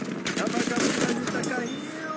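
Gunfire in a shooting video game: rapid bursts of shots and crackling impacts, with a voice talking over them.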